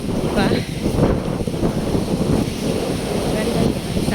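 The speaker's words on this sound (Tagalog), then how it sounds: "Malamig yung hangin." Cool morning wind gusts across a microphone on a seaside boulevard, a loud, continuous buffeting roar with possible surf underneath and no clear speech.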